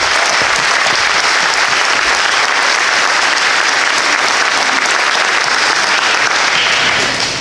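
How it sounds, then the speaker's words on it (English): Loud, steady applause fills a school gathering, a dense, continuous clapping from a sizable crowd that carries on without a break and with no talk on top. "And I think they deserve a little applause."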